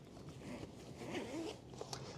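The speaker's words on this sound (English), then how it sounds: "If we undo this zipper here we go, further back, just like that" The zipper on a travel stroller's canopy is pulled open in a few short, quiet rasping runs heard up close, with faint handling noise between them.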